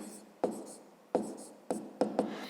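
A pen writes an answer by hand on paper, with four or five short scratchy strokes separated by brief pauses, close and quiet.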